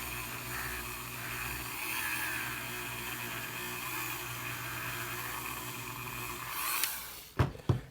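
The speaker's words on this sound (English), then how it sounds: "So really trying to get in there with the Dremel, with the flits on these flat surfaces." A Dremel rotary tool polishes the flat surfaces of a stubby, a steady high-pitched whine with a constant motor drone. It stops near the end, followed by a couple of sharp knocks.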